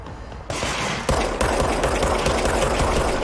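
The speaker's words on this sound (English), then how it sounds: "Somebody shooting at me?" Automatic gunfire in the video game Control; rapid, loud bursts of shots starting abruptly and continuing in a fast, steady rattle, with sharper reports marking each new burst.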